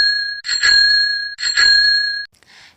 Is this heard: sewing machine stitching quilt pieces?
no